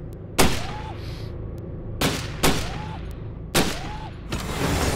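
Simulated gunfire from the Gun Club VR SWAT game sounds off in four loud, close shots spaced about a second apart, each with a short ringing tail over a low game background.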